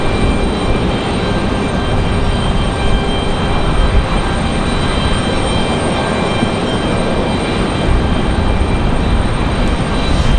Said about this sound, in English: Got your favorite aircraft right here, CRJ200 from SkyWest.